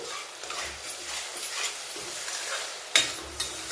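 A spoon stirs sliced onions with gathiya powder sautéing in oil in a pan, soft sizzling under gentle scraping and a sharp metallic clink near the end, quiet and close with no voices.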